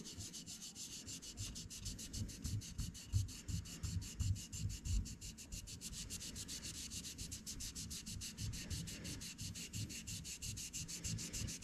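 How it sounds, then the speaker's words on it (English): Gentle back-and-forth rubbing to clear paint from the engraved lettering of an AR-15 lower receiver produces a steady, fast scratchy swish. The strokes repeat rhythmically and are close but quiet, with no talking. "just keep rubbing it until it starts clearing up"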